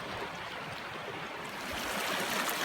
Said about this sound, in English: Got a beautiful creek running through here.